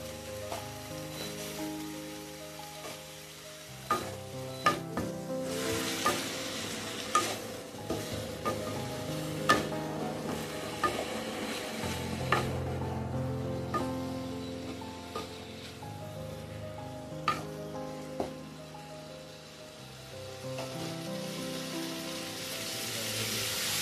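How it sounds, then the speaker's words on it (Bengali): Raw green tomato jhal, a spicy Bengali curry seasoned with salt and turmeric, frying in a pan, a steady loud sizzle broken by repeated scraping and clinking strokes as it is stirred, with no talking. "ভালো করে নাড়াচাড়া করে একটু ভাজা ভাজা করে নেব।"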